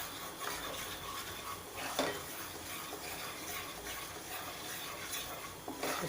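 Gram flour roasting in oil in a pan while being stirred constantly, a low continuous scraping hiss with occasional faint utensil knocks, quiet and close.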